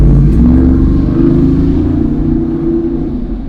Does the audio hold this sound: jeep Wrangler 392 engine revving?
yes